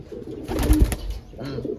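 A racing pigeon coos softly on returning to its loft after a final-lap race, a couple of low throaty burbles close by with faint background noise.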